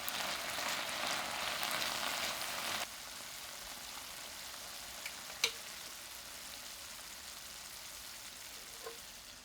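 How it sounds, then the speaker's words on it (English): Meat stir-frying in a pan for a stamina rice bowl, a steady broadband sizzle that drops to a quieter hiss partway through, with a couple of faint clicks from the utensils; close and alone, no talk. "Stir until all the meat changes color."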